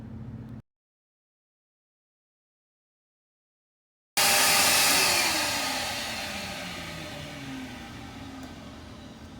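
A vacuum cleaner used to clean up during a concrete floor crack repair with structural epoxy cuts out for a few seconds, then roars back on loudly and runs steadily, its whine slowly settling.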